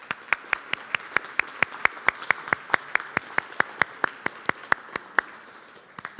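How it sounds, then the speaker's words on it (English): An audience at the close of a food innovation summit claps in a steady, even rhythm, with sharp distinct claps at a regular beat rather than a dense roar, heard fairly close. "Let's give applause to everybody,"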